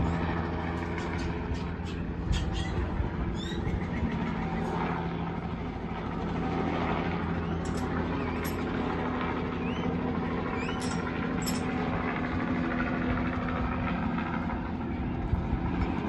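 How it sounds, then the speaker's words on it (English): Helicopter circling low overhead, a continuous heavy rotor and engine rumble that stays loud throughout, with faint scattered higher sounds over the drone. "Doing a big circle right around the kingdom. He's turning and coming back around now."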